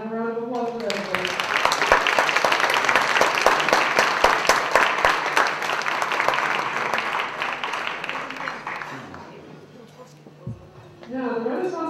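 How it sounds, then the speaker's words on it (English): Applause from the audience at a parents' banquet, a full, sustained round of clapping that rises quickly, holds for about eight seconds and fades, with a voice speaking before and after. "May I have a round of applause for everybody?"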